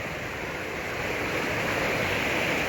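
Steady roar of fast-flowing river water rushing through a snowy, icy winter landscape near waterfalls, a broad continuous wash with no talk.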